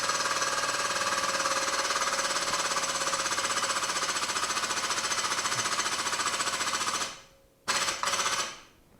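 A hydraulic pipe bender works on exhaust pipe for a body-dropped Suzuki Samurai, a loud, steady pumping drone running close for about seven seconds before cutting off, then a short burst and a trailing stop.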